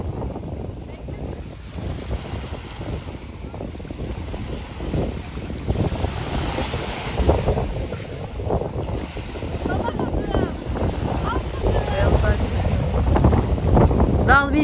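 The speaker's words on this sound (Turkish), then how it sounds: "Ama şansıma dalga var." Sea waves wash onto a beach under steady, gusting wind noise, a constant loud roar of surf and buffeting air that swells slightly toward the end, with no clear talk.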